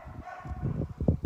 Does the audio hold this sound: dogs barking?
yes